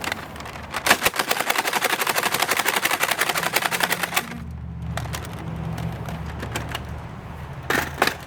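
A Nerf blaster firing Nerf and LighTake Vortex disc rounds in a rapid, even burst of sharp clacking shots for several seconds, then a mechanical whir and a couple of final shots near the end.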